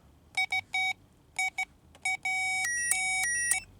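Several short electronic multimeter continuity-test beeps in quick bursts while checking a relay on a Ford Fiesta, followed by a longer sustained tone with pitch steps, clear and close in a quiet room.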